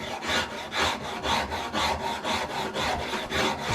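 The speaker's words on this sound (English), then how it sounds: "now I'm just going to take the smooth side of the Shinto" A Shinto rasp's smooth side works over a wooden cup, making rhythmic rasping strokes about twice a second, close and steady throughout.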